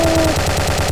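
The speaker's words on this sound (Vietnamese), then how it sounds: "mình sẽ rút ra khẩu AK-47 Iron tấn công cái kiểu loa này" Rapid AK-47 Iron gunfire from a video game, a loud dense burst of shots filling the full second, with a brief tonal hum at the start.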